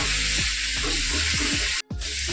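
Whole tomatoes frying in hot oil with salt give a steady, loud sizzle and hiss, broken by a brief drop to silence and soft stirring movements, with no voice over it.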